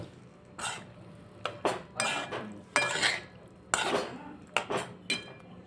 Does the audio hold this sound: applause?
no